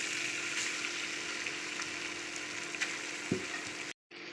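Grated potato frying in a little hot oil in a pan for a breakfast dish, a steady close crackle and hiss that runs without a break, then cuts off briefly near the end.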